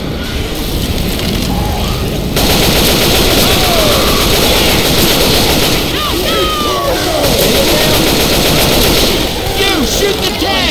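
Survivors in Left 4 Dead 2 pour dense, continuous gunfire at a Tank, the overlapping shots loud and chaotic, with metallic clatter and occasional shouted voices in the mix.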